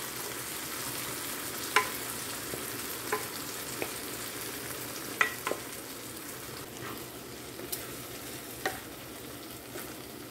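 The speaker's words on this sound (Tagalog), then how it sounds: "So, ngayon, isalin natin yung ating munggo." Boiled mung beans hit a hot pan and fry with a steady, close crackling sizzle, dotted with occasional sharp pops and spatters, and no speech.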